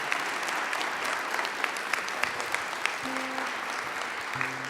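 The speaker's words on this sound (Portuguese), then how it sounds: "Nós podemos aplaudir a palavra de Deus." A church congregation applauds after a Gospel reading at a Catholic Mass, with steady, full clapping throughout and soft sustained organ or keyboard notes entering partway under it.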